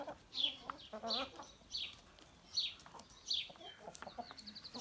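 Jersey Giant chickens and roosters cluck in short repeated calls, fairly faint and spaced out, with a little rustling between them.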